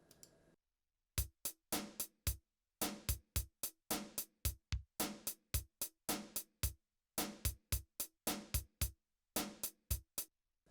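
A programmed drum beat with crisp, short closed hi-hat ticks over sharp kick and snare hits in a steady, repeating electronic rhythm.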